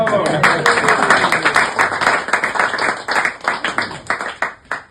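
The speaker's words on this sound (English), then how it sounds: "I think a round of applause for Leonora." Audience applause at an anniversary celebration of The Temple, distinct individual claps in an uneven rhythm that thins and fades toward the end, with a voice speaking at the start.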